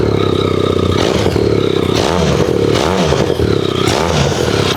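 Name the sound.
Benelli TRK 502 inline-twin motorcycle engine and exhaust sound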